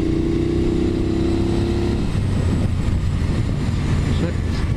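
A Triumph Bobber Black motorcycle with a decat exhaust, baffles left in, roars steadily up close, its harmonic drone shifting into a rougher, grittier exhaust rumble, with wind noise throughout.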